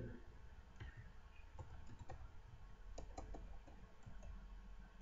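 Keys clatter in short, irregular bursts on a computer keyboard while values are entered in AutoCAD, a quiet, close tapping with small pauses between keystrokes and no voices.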